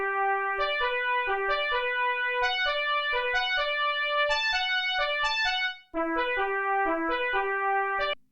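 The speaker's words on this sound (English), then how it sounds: "And then this French horn sound on the Novation, and it sounds like this." French horn patch on a Novation keyboard playing a smooth, continuous melodic line of sustained notes, steady and full with a brief break near the end, no talk.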